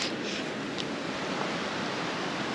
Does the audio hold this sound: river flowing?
yes